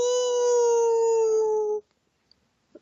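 A person imitates a hound dog howl with a single long, loud, steady tonal wail that holds for nearly two seconds and then cuts off into near silence.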